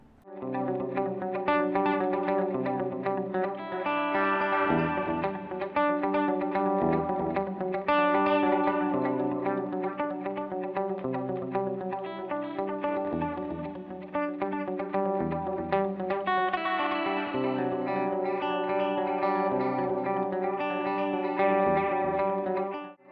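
Electric guitar run through a delay pedal, its repeats timed to the playing, echoing clean picked notes and chords layered in a steady, continuous rhythmic pattern with chorus-like shimmer.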